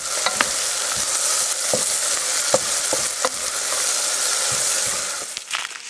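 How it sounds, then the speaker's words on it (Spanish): Onions fry in a pot for rice and beans while being stirred, a steady close sizzle broken by several sharp spoon clicks and scrapes against the pot. "Revuelva usted la cebolla. No los deje quemar."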